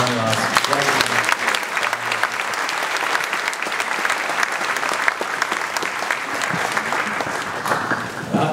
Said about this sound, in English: Please join me in giving one last round of applause